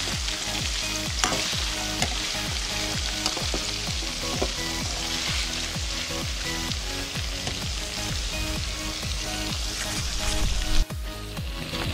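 Fish frying in a pan for a fish curry, giving a loud, continuous close-up sizzle and crackle with rhythmic spattering bursts throughout and no talking.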